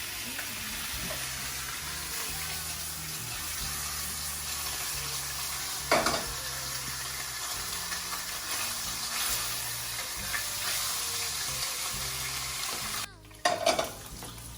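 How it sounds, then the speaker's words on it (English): Ham frying in leftover bacon oil in a pan, a steady close sizzle with occasional spatula scrapes and a brief clatter near the end. "We're just going to use the oil that was left there from the bacon to cook the ham."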